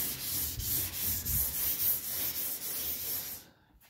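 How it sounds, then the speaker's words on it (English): Sandpaper rubbed by hand over primer on a Toyota 86 car body in an X pattern, a steady close-up scratchy hiss with even back-and-forth strokes that stops abruptly near the end. "Just keep sanding."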